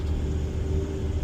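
A Chevy Express van engine rumbles low and steady while driving, a continuous deep drone with no voices over it.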